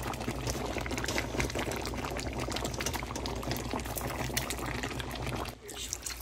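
Meat and tomato sauce with hot water added in a pot, a dense close bubbling and pouring rush that ends abruptly near the close, with a voice faintly present.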